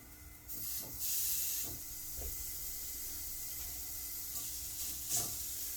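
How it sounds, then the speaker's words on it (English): Steady frying sizzle from a pork chop in a hot, smoking pan, a continuous hiss with a few soft clinks and scrapes of utensils over it. "That sucker's been heating up for a while, so this is gonna sizzle pretty good"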